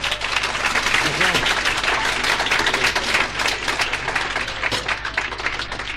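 A live audience at a show gives a steady round of applause for a band member, dense clapping filling the room at an even level, with a voice briefly audible underneath.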